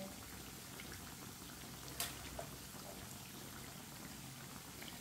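Potato tikkis fry in a pan with a soft, steady sizzle and crackle throughout, fairly faint and even, broken by a brief clink around the middle.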